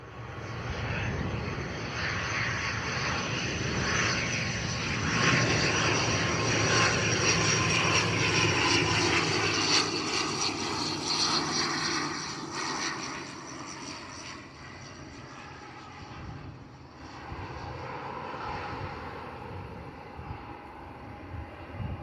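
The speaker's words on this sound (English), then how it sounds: "Loganair ATR 72600 still staying quite high" A Loganair ATR 72-600 turboprop flies overhead near Bristol Airport, its engine drone loud and steady for several seconds before slowly fading into the distance.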